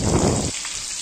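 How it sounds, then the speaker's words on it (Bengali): Beef pieces for a beef kebab (koab) drop into hot frying oil, raising a loud, dense sizzle for the first half that then drops to a quieter crackle. "পরের ব্যাচে আমি অবশিষ্ট যে মাংস ছিল সেগুলো আমি দিয়ে দিচ্ছি তেলে ভাজার জন্য।"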